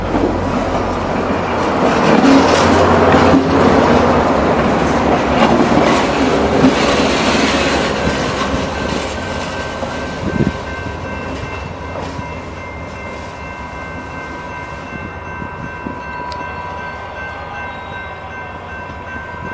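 A New Mexico Rail Runner passenger train rumbles past loudly at first, the roar gradually fading as the cars roll away, with faint clacking and a steady tonal hum.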